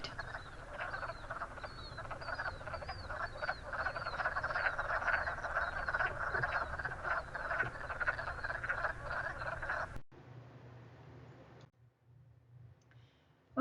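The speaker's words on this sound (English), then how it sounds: "here similarly is a loud, healthy wetland at night" A loud, healthy wetland at night full of calling frogs, their croaks and clicks overlapping in a dense continuous chorus that cuts out abruptly to near silence toward the end.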